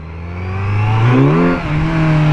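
A Kawasaki Z900 inline-four motorcycle revs loud and close as it accelerates, its engine note climbing steadily in pitch, dipping briefly at a shift, then pulling on with a smooth, rising whine.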